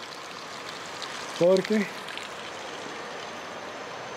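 Water flows from a pipe at an old coffee processing site in a jungle-like setting, a soft steady trickle throughout, briefly interrupted by a short spoken word.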